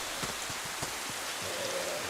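Steady rain falls in the survival video game Livonia, a soft continuous patter with a few scattered louder drops, heard alone at low volume.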